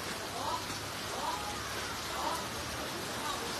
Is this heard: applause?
no